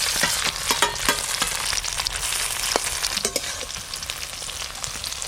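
Close, constant sizzling of pieces frying in oil in a pan, with repeated scraping and stirring clatter throughout and no voices.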